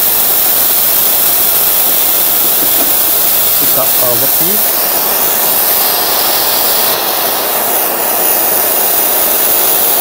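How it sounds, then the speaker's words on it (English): Compressed air hisses out of a ZK2 vacuum ejector in a loud, continuous exhaust rush while it holds a workpiece under suction, with a voice speaking briefly over the noise. "You hear the sound of compressed air exhausting continuously during suction of the workpiece."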